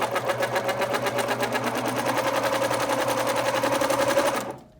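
Sewing machine stitching bias binding onto a thermal blackout window cover for a motorhome, a steady rapid whirring run of stitches that stops abruptly at the end.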